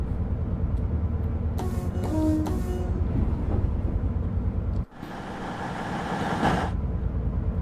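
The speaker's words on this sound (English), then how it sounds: "it's got some rail noises as well now" Rail noise from a train in the video game Train Sim World 6 on the Riviera Line: continuous rumbling wheel roar with clattering over junctions and a brief squeal, steady and close throughout.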